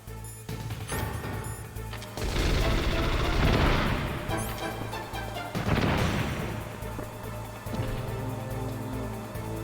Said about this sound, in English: Let's try out these stun grenades.